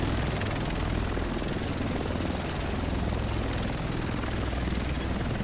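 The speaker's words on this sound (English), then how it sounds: "The rest of us should be in this chopper." A helicopter in the video game Tom Clancy's The Division arrives with a loud, steady rotor and engine roar that fills the whole stretch without pause.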